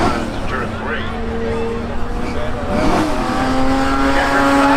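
Race cars accelerate past at Seekonk Speedway spectator drags, their engines droning and rising in pitch as they pass, with a loud announcer talking over the track noise throughout.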